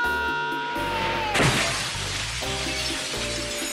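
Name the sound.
shop window glass smashing, Home Alone 2 film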